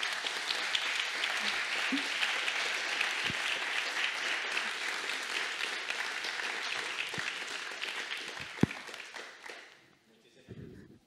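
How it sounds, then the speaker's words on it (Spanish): Steady audience applause for panel speakers at a cross-sectoral cultural industry conference, a continuous wash of clapping that tapers off near the end, with a few voices underneath. "Por favor, un aplauso para ellos"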